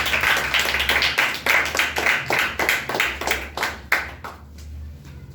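A small audience claps for a person stepping up to a stage, a run of distinct hand claps at a steady rhythm. They are close and fairly loud, and they fade out near the end.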